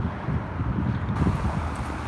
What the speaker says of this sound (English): it's a windy night here